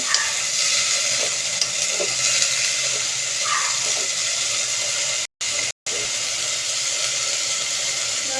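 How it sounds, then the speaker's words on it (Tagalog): Sautéed vegetables sizzling loudly in a pan as they are stirred, a steady close hiss of frying with faint scraping, briefly cut out near the end. "Haluin muna po natin sa ating gisa bago natin lagyan ng sabaw."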